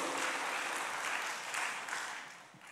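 A congregation applauds during a church service, a dense burst of clapping that swells and then fades away after a few seconds.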